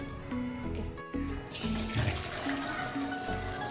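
Water from boiled bhajji ingredients pours and splashes as it is drained through a strainer in a home kitchen, a continuous close rush of liquid that swells louder midway, with no talk over it.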